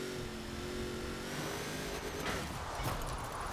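Engine revving hard in second gear as a car drifts in Forza Horizon 4, a loud, steady, strained drone that holds without a break and swells slightly near the end.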